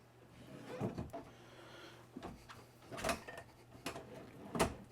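Soft-close drawers in a 2023 Riverstone Legacy 39RBFL luxury fifth-wheel RV, a few quiet sliding thumps and soft clicks spaced over a few seconds in a hushed room.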